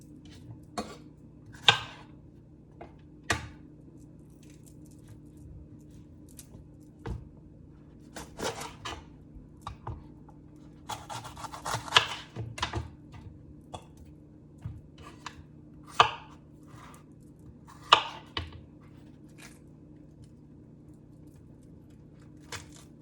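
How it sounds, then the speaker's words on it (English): A knife cores and chops bell peppers on a kitchen cutting board, giving scattered sharp clicks and taps at an irregular pace with quiet gaps between them, close and fairly soft. "Takes forever to core peppers, but here we are."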